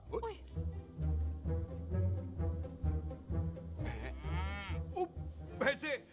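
Water buffaloes low in deep, drawn-out moos that rise and fall, loud and close, mixed with people talking nearby in a film scene.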